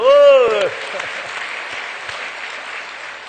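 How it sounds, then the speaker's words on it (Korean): A church congregation applauds during a Sunday sermon. A speaking voice comes first, then a dense patter of many hands clapping fills the room, moderately loud and fading slightly. "박수 한번 해드려."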